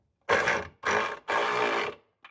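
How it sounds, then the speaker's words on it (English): A ratchet clicks through three quick bursts of strokes on a transmission bolt of a 1981 Corvette, loud and close, with short pauses between, and a brief fourth start at the end. "I got to get a ratchet to get that one because this will not reach"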